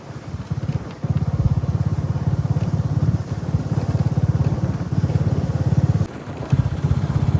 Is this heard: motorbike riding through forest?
yes